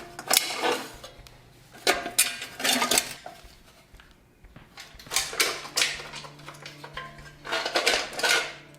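Metal bolts clink and rattle in bursts while being handled during final assembly of a Hound helmet replica, with sharp close jingles separated by brief pauses and a faint steady hum underneath.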